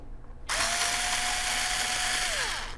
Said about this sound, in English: It's not a drill, it's a cordless screwdriver.